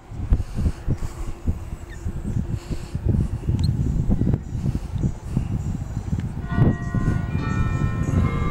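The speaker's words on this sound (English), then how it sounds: "Church bells are ringing." Church bells ring in Bridgeport, California in a steady, layered peal over a rumbling low background, with a sustained tonal ring emerging more clearly toward the end.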